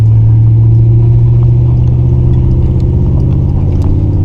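A Chevrolet Camaro's engine rumbles loud and steady while street drifting, a deep continuous roar with a slight rise in revs, close by and without any voices.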